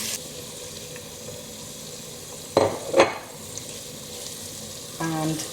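Ground spices and golden onions fry in a pan with a soft, continuous sizzle, broken by a couple of louder scraping stir strokes and a brief clatter near the end.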